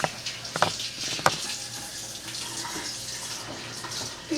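Hands being washed under a running tap while making brownies, a steady rush of water with a few splashes and knocks early on, close by.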